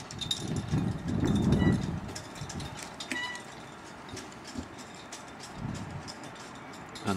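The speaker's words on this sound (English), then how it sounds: "Sorry about the noise, it's absolutely blowing a gale out here." Strong gale blowing outdoors beside a 2018 Caravelair Antares 480 caravan, heavy low rumbling gusts buffeting hardest at first, then easing to a lighter, uneven roar, with no voices.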